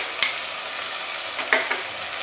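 Ginger paste being stirred into a palak paste with green chillies in a pan, a soft sizzle with a couple of distinct spoon scrapes close by.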